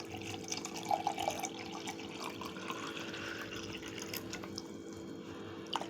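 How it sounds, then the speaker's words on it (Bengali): Water pours steadily into a jug for mango-mint sherbet, a faint continuous trickle and splash with a few brief drips, heard alone without talk. "এইবার আমি কি করব, জলটা পরিমাণ মতন দিয়ে দেব"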